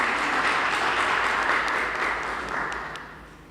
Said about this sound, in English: a round of applause for Miss Simmons